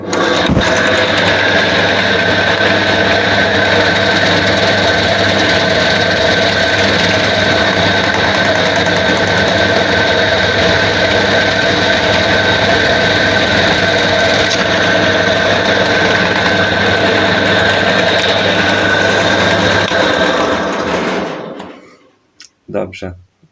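A homemade drill press motor whines loudly and steadily for about twenty seconds as a 10 mm bit bores, then winds down and stops, followed by a couple of brief clunks.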